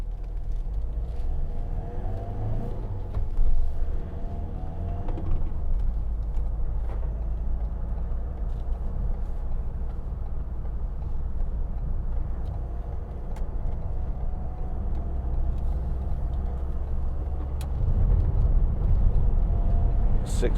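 Steady road traffic rumbles around a roundabout, heard from inside a 2015 Ford Transit Custom 2.2 TDCi panel van, with a constant low engine drone and passing vehicles swelling and fading.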